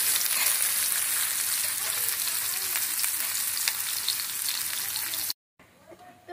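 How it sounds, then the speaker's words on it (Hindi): Chopped onion hits hot oil with cumin, setting off a loud, crackling sizzle that holds steady. It cuts off abruptly near the end, leaving only faint quiet. "अब हम यहाँ पर चॉप किया हुआ प्याज डालेंगे।"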